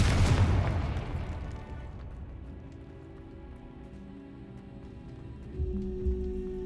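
Confringo explosion spell cast in the Hogwarts Legacy video game: a sharp blast bursts at the start and decays into a low rumbling tail, followed by a fresh thud and humming tones near the end.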